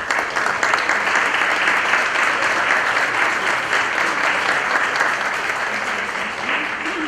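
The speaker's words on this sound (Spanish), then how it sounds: "para todos los cuales pedimos un fuerte aplauso." A large audience at the opening of a national notaries' seminar in Trujillo, Peru, breaks into loud, dense, sustained applause, a steady wash of clapping that holds from start to finish and fades slightly at the end.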